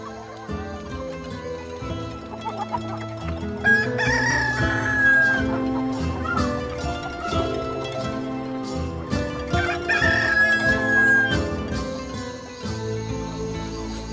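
A rooster crows twice, about six seconds apart, while chickens cluck steadily around it on a farm in southern Italy.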